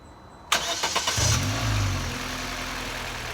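A Vauxhall Astra H 1.6 cranks briefly after a quiet start, catches, and settles into a steady, close idle with a low engine rumble.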